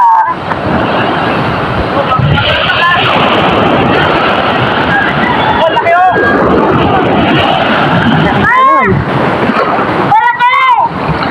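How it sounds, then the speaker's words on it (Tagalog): Heavy sea surf roars steadily beside a fishing boat, loud and continuous like crashing waves, with wind buffeting the microphone and a few brief tonal squeaks near the end. "Dahil malakas ang alon."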